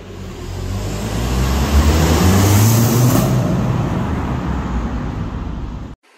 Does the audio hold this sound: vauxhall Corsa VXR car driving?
yes